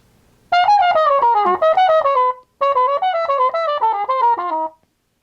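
A trumpet runs an atonal line over a tune's chord changes, two dense phrases of rapid, bright notes with a short pause between them, played up close and alone.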